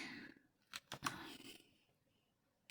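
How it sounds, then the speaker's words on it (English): Scissors cut out the middle part of a colouring page on a cutting mat: a handful of short, close snips and paper rustles, quiet and without talk. "I'm going to cut out this whole part in the middle of the page."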